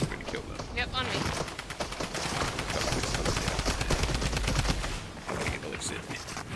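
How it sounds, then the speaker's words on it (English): Rapid gunfire bursts crackle in a video game, sharp repeated shots in quick succession, loud and close, with a player's voice talking over parts of it. "I hear gunshots."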